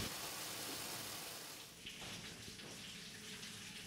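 Water runs steadily from a tap in a former village dairy turned tofu factory, where soybeans soak before milling; a continuous broadband rush that is fairly loud and holds without pause.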